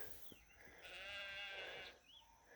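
A flock of sheep coming up a hillside on a ram lamb banding day, heard as a single drawn-out bleat at a distance, faint against quiet outdoor air.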